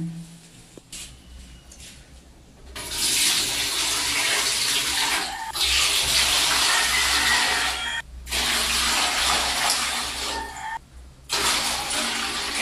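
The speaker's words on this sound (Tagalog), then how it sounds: "Maglalagay na po tayo ng tubig sa ating steamer" Water poured by the dipperful into a steamer pot for cooking leche flan: loud, steady gushing splashes in several long pours, separated by short pauses.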